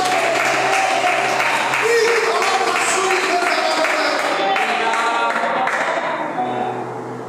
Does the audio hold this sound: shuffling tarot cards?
no